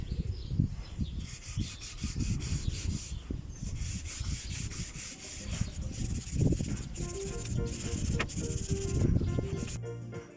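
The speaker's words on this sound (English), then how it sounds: "So now we've finished doing all the sanding" Steady scraping and rubbing of abrasive on wooden poles, repeated sanding strokes continuing throughout at close range, fairly quiet with no talking.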